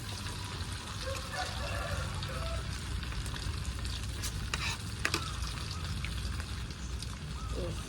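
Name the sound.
frying tofu in a pan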